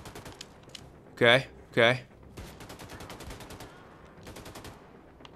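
Rapid automatic gunfire rattles in Wolfenstein II: The New Colossus, a dense, steady stream of fairly quiet shots, with someone talking briefly in two loud bursts early on.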